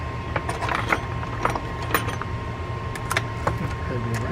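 Metal parts being hand-tightened while servicing a Penn Fierce III Live Liner 8000 spinning fishing reel, giving light mechanical clicks and small ratcheting ticks at close range over a low steady hum.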